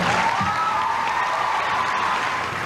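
A television studio audience on a morning news show claps steadily, a short, even burst of applause at moderate loudness with no talking over it.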